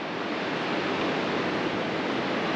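Ocean surf at an off-grid coastal property: a steady, broad wash of waves rolling in below a viewpoint, unbroken and fairly loud with no voices.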